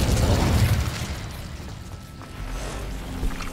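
Incendio fire spell cast in Hogwarts Legacy, a loud roaring burst of flame with low rumble that swells at the start, eases, then flares again near the end.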